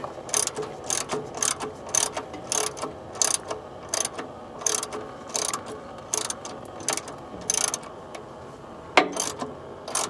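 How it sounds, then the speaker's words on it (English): A ratchet with a 16mm socket loosens an oil drain plug during an oil change. It clicks in quick, rhythmic bursts of sharp metallic ticks, close up and fairly quiet, with short pauses between strokes. "Let me set my ratchet down."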